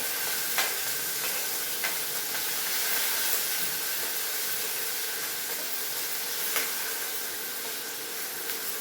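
Chopped chillies, carrots and beans sizzle and hiss steadily in a hot pan, a dense broadband frying noise with occasional soft clicks of stirring, no voices.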